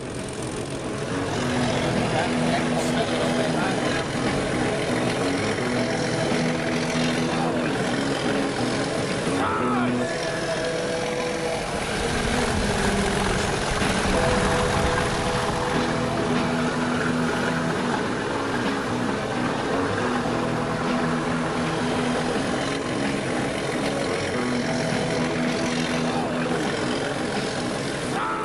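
A single diesel locomotive engine hauling a train alone drones loud and steady under heavy load for the whole stretch, with voices talking over it.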